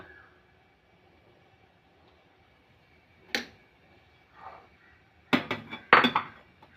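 Egg curry masala with a half teaspoon of chili powder being stirred in a pan: a few sharp metallic scrapes and clinks of a spoon against the pan, isolated at first, then clustered near the end, over a quiet background.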